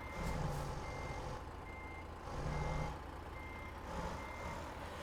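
A Mack Anthem log truck in American Truck Simulator reverses with a repeating electronic backup beep, three evenly spaced beeping pulses over a steady engine drone.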